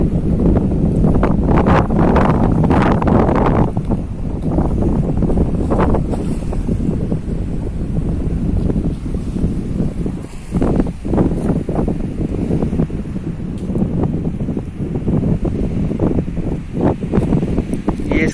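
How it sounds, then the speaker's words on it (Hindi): Strong sea waves surge and wash at Dahej port in Gujarat, a loud continuous roar mixed with heavy wind buffeting the microphone, while a voice speaks faintly at times. "इस समुंदर की लहरें इतने तेजों से"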